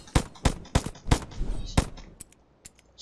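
Gunfire in the video game Unturned 2: about five sharp, loud shots spaced roughly a third of a second apart, then a few quieter clicks and pops as the bursts fade out.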